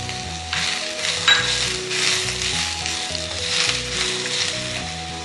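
Grated coconut drops into hot oil with fried onions in a pan, giving a steady close sizzle with soft stirring scrapes throughout, no voices.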